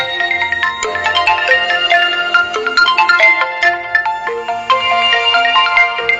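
A bright electronic phone ringtone plays a quick repeating melody, loud and close, with no voices.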